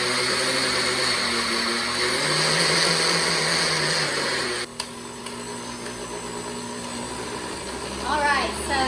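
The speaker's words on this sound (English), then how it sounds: "the batter is all mixed into the blender. It's all blended up together" A blender whirs steadily, blending oatmeal, eggs and spinach into green muffin batter. The motor hum holds an even pitch, dips briefly midway, then runs on, with faint voices around it.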